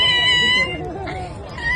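A pressed toy lets out a loud, close electronic cat meow with a wavering pitch, heard under overlapping women's chatter.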